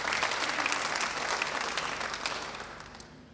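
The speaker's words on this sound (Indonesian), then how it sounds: "Beri tepuk tangan sekali lagi." A church congregation claps during a sermon in a dense, fairly distant burst that fades gradually over a few seconds, with no voices over it.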